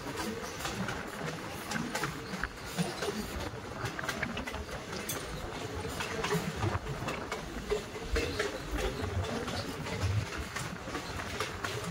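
A passenger train runs the hilly line from Dullabcherra toward Guwahati. It gives off a continuous rumbling rattle with scattered clicks and knocks from the wheels and carriages, heard steadily from inside.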